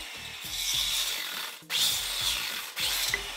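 Wooden pieces being cut to length for a homemade chicken cage, a close, loud rasping saw sound in two long bursts separated by a brief pause, with no talking.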